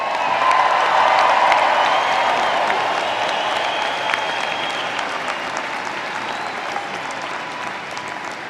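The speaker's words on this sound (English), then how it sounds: "let's give our graduates another round of applause" Sustained applause from a large audience honoring graduates at a university undergraduate commencement ceremony in Leeds, steady and loud throughout, fading slightly toward the end with no speech.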